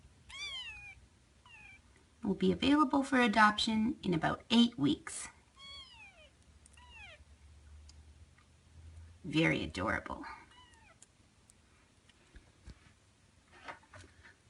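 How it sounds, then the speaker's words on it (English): Sixteen-day-old foster kittens from Calla Lily's litter give thin, high meows throughout, some faint and some closer, while someone speaks over them in two stretches. "So these are the Calla Lily kittens."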